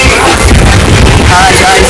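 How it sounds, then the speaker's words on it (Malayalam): Strong wind buffets the microphone in front of a house in a steady, loud roar, with faint voices underneath. "അതാണ് നല്ല കാറ്റ് വരുന്നുണ്ട്."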